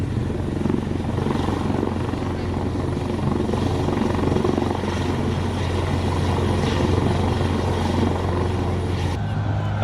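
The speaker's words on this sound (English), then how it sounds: "An impressive display of helicopters from the Royal Air Force," Military helicopters of the Royal Air Force, Army and Royal Navy fly a display at the 1966 Farnborough Airshow in England, giving a loud, steady rotor drone with engine whine that continues throughout.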